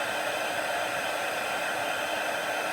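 Embossing heat tool blowing hot air to melt embossing powder on a stamped card: a steady, even, hissing whoosh of fan noise, unbroken and alone.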